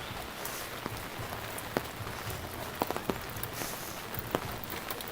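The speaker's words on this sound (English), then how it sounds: "glad you're enjoying the rain sound, Vietnam Walking TV." Steady rain falls on a Manhattan street in New York City, dense patter with scattered nearby drips and taps, continuous and moderately loud with no talking.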